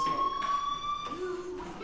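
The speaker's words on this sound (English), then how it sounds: "Hey, do you hear that fire alarm?" A fire alarm rings inside the Life is Strange video game, a steady electronic tone with harmonics that sounds continuously and fairly loud throughout the whole moment, with game ambience underneath.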